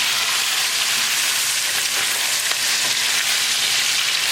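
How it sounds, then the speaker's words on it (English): Pork chops sizzle steadily in a hot pan with cooked ginger garlic paste over a gas flame, a constant close hiss and crackle throughout with no talk. "now we're going to add the pork chops and turn up the gas"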